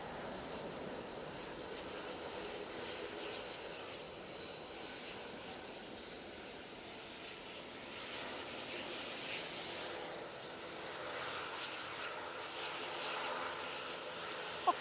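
A Ryanair airliner at Manchester Airport gives off a steady, distant engine roar that holds at a fairly even level throughout, with no talking.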